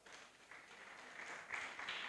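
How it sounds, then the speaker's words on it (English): Brief, fairly faint applause from an audience at a parliament session welcoming a speaker, a steady patter of hand claps with no talk. "Please welcome her with a hand clap."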